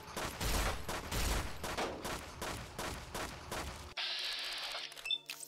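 Repeated shots from a 10mm pistol in Fallout New Vegas, a string of sharp, loud cracks fired in a quick uneven rhythm for several seconds, then cut off and replaced by a brief electronic interface chirp.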